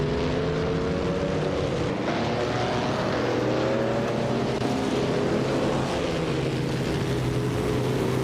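Race car engines roar steadily in a racing video game with a 1937 Maserati, a dense continuous drone whose pitch rises and falls as cars jostle for position, with no talking.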